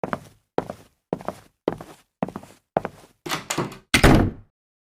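Someone knocks and thuds at a door, a run of about eight evenly spaced heavy thunks that grow louder and rougher toward the end, close and with no talk.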